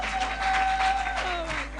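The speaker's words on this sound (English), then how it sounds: "Please, a round of applause again." A live studio audience at a singing show bursts into a short, loud round of applause, a dense wash of clapping.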